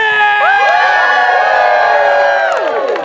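An audience at a live Romeo and Juliet theater show cheers loudly, with sustained high whoops and shouts from many voices, including children, filling the moment before fading.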